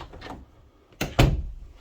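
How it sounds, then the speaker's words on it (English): A house door swings shut after its hinge plate was adjusted, closing with a solid thud and a short rattle near the mic, following a fainter first knock. "So I adjusted their plate for now, at least when this door closes. It's nice and solid."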